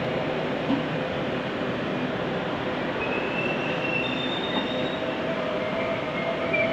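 A late-running freight train rumbles steadily past close by at Ramsgate station, a continuous heavy roar of wagons with faint metallic wheel squeals rising now and then.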